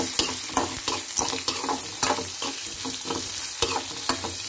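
Garlic, onions and curry leaves sautéing in hot oil for a beans poriyal: a continuous close sizzle is punctuated by regular scraping and tapping strokes from a spoon stirring the pan, with no voices.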